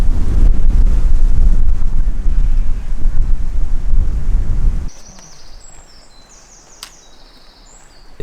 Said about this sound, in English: I'm expecting it to be windy on the mountain.